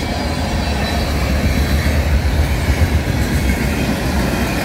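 A southbound manifest freight train led by an IC SD70 and a CN/IC GP38-2 locomotive rolls past with a steady, loud, continuous rumble of wheels and rail noise throughout, with no voices.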